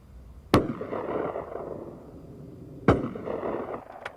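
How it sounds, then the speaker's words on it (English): Two sharp shotgun reports about two seconds apart on a sporting clays course, each a loud crack with a short rolling echo, over faint outdoor ambience. "That's consistent shooting."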